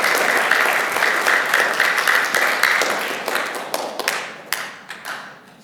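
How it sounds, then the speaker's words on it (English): An indoor audience at a church presentation breaks into a quick round of applause, dense clapping that gradually thins out into scattered individual claps. "Can we give that a quick round of applause?"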